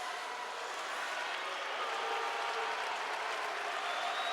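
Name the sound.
hockey arena crowd cheering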